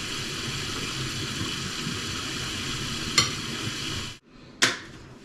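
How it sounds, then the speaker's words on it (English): Cornbread batter for Mexican cornbread being stirred in a bowl, a steady wet churning texture that runs continuously, then cuts out briefly before a sharp scrape returns near the end, close up with no talking. "I'm just going to mix it up. So it makes the batter."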